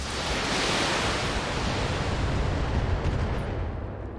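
Mech weapons fire in the BattleTech video game, with a loud, sustained roar of blasts and rumbling impacts that blend into dense, continuous noise.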